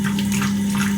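Running water rinses cleaning foam away, a steady loud gushing rush with a constant low hum beneath it, continuous for the full second with no voices.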